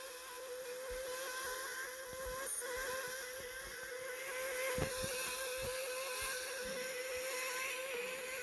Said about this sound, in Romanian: Ce să-i tocim cauciucurile la mașină.